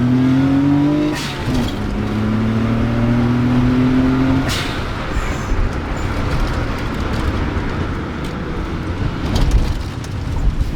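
A Daihatsu Gino Turbo hot hatch on Neova tyres accelerating hard with wheelspin, its engine revving loudly and close with a rising whine at first, then a sustained roaring rush.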